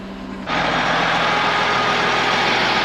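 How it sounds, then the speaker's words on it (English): Road grader engine running steadily and loud after a sudden start, a continuous broadband mechanical roar with a low rumble, close by and heard alone without talk. "So we got James in front of us here in the grader"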